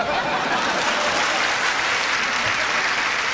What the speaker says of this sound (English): if we give him a nice round of applause